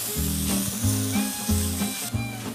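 Prawns frying and caramelizing in a hot pan give a steady sizzle, with lower clattering pulses repeating about every half second, as if the pan is being tossed or stirred.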